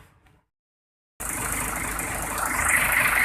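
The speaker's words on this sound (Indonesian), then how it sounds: "ini kita dengarkan suara mesinnya, ini perbedaannya ya. Ini mesinnya sudah hidup." Mercedes-Benz 1526 bus engine starting from a brief silence into a loud, steady, close idle rumble that holds evenly, with a brief bit of quiet sound just before it.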